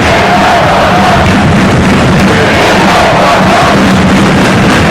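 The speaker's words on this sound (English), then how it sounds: "It's got the crowd going a little bit." Football stadium crowd at Iceland vs Wales, a dense, steady roar of many voices rising and swelling throughout, loud and continuous with no clear speech above it.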